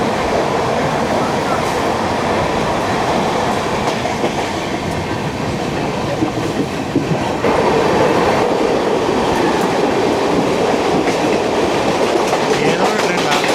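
An express train passes near Kurla Junction station in Mumbai, with a loud, continuous rumble and clickety-clack of wheels on the rails that grows heavier toward the end, under faint voices.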